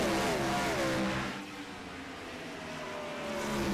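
Race cars at Richmond Raceway, including the Havoline Ford number 28, roar around the track in a loud, continuous engine drone whose pitch glides downward as the cars sweep past, then swells again near the end.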